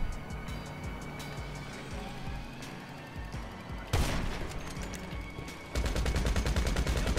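Video game machine gun fire crackles in dense rapid bursts, one run sustained near the end, loud and close over a busy background of other game sounds.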